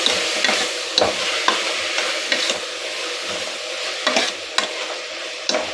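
Chopped tomatoes frying in a pan for a sprouted green moong gravy, with a loud continuous sizzle and repeated spatula scrapes and knocks against the pan at an uneven rhythm, close and without talk.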